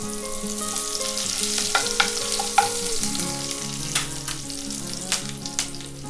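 Fennel powder and two sprigs of curry leaves hit hot oil for a radish and egg poriyal, giving a sharp sizzle with scattered crackles and pops over soft background music.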